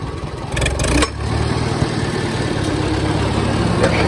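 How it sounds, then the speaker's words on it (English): A farm tractor engine runs steadily nearby as the PTO is engaged, with a brief clunk and a shift in the engine note early on, then a sustained loud mechanical drone. "And we can engage the PTO."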